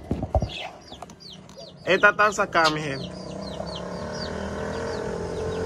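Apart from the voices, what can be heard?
zebra doves calling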